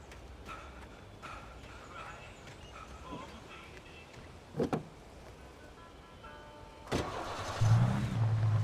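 A car starting up and driving off in the video game Alan Wake Remastered, with a sharp engine catch partway through followed by a louder, steady engine drone toward the end, over quiet game ambience and brief talk.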